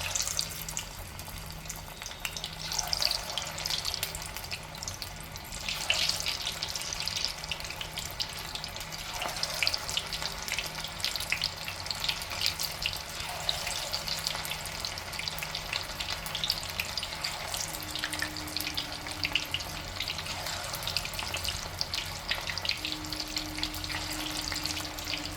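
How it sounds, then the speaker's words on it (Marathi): Prawns sizzle and fry in hot oil for Koliwada-style prawns, a steady, even crackle and hiss that continues alone throughout at a moderate, close level. "आता आपण हे फ्राय करायला घेऊया।"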